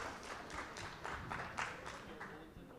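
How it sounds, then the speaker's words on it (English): Audience applauding panelists at a formal institutional celebration event, a steady wash of clapping with rhythmic pulses, fairly faint and distant, filling the room without speech on top. "Applause for our panelists."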